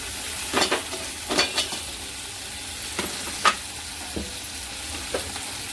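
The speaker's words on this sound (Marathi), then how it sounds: "छान असा परतून घ्यायचा आहे चांगला टमॅटो गळायला पाहिजे तोपर्यंत याला छान परतायचं" Tomato being sautéed in a pan for a bitter gourd dish, with soft, low sizzling broken by several sharp scraping stirs of a spoon against the pan, close by and with no talking.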